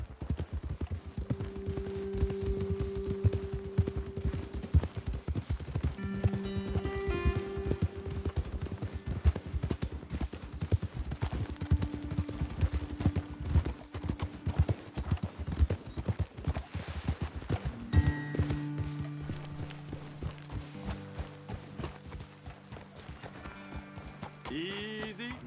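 Horses walk along a trail under riders, hooves clip-clopping in a steady close rhythm with occasional snorts and a faint whinny, while riders talk quietly over the steps.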